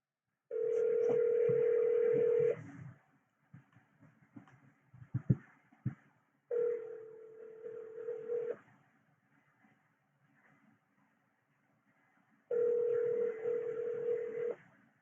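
A telephone call rings back three times, each ring a steady two-second electronic tone with long silent gaps between, with faint clicks during the pauses.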